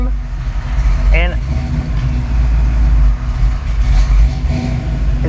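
A Ford Foxbody car engine, warm after a hard startup, idles steadily at close range, with a low continuous rumble throughout and a brief rising whine partway through.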